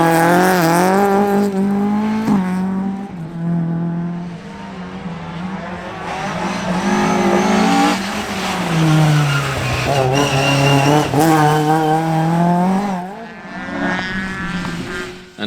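A rally car engine roars at high revs on a gravel stage, rising and falling as it shifts gears and accelerates hard, loud and close with no talking.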